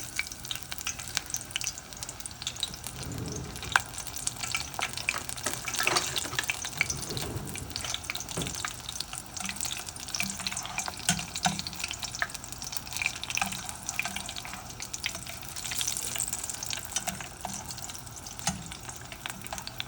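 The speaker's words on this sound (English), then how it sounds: "just going to drop it right in the hot oil" A battered squash flower stuffed with feta and wild spinach fries in hot oil, giving a steady, dense crackling sizzle that runs throughout, close and moderately loud with a few sharper pops and no talk.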